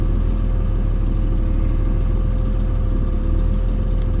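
A 1968 Ford Fairlane engine idles at operating temperature, a loud, steady low rumble that stays even throughout, with no voices.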